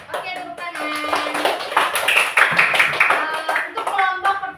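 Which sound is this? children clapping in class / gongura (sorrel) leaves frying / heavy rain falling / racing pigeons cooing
children clapping in class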